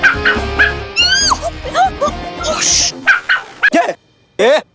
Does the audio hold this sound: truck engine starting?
no